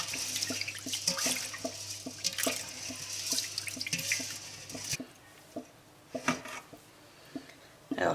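Sushi rice is stirred by hand in cold water in a kitchen sink. It makes close splashing and sloshing with scattered clicks and drips, then turns quieter with sparse drips and short swishes.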